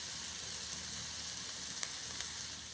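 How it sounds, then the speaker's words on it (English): Peppers and onions sauté in a pan for lasagna stuffed peppers, giving a steady, close, even sizzle with a few faint clicks and no talking. "We're gonna cook that until they are just translucent, so about 2-3 minutes."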